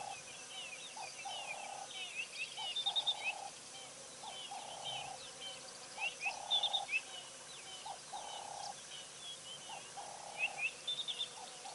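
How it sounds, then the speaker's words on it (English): Cape turtle doves give repeated rhythmic cooing phrases in regular bursts over about twelve seconds, moderately near, with other birds chirping higher and fainter in the background of an outdoor afternoon. "Cape turtle doves."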